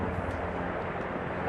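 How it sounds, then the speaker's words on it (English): Helicopter passing overhead outdoors near beehives: a steady low rumbling drone, moderately loud and continuous, with no talking. "Got a helicopter flying over"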